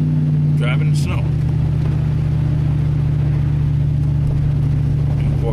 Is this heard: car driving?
yes